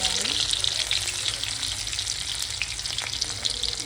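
Garlic sizzles and crackles steadily in hot oil with cumin, a dense close frying hiss with small pops and occasional stirring, no voices over it.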